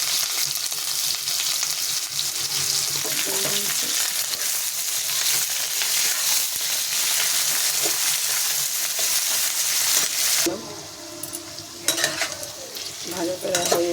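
Potato and radish chunks fry in hot oil with black cumin seeds, giving a steady close sizzle with a spoon scraping and stirring through the pan, the hiss easing toward the end.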